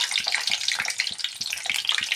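Gooseberry pieces spluttering and crackling in hot deep-fry oil, a dense steady sizzle with frequent sharp pops throughout, close and fairly loud, no voices.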